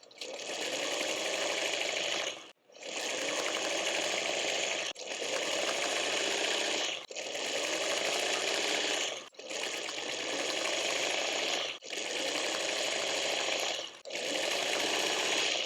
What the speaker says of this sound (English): I'm going to sew all that together by building out that middle row first.